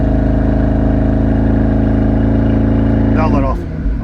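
A McLaren 650S twin-turbo V8 holds a loud, steady rev under load, its tone climbing as boost builds, then abruptly lets off near the end with a brief fluttering release.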